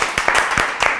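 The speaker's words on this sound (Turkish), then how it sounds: "konuğumuzu bir alkışlayalım" A studio audience gives a short burst of applause for a guest, a handful of distinct claps close together over about a second.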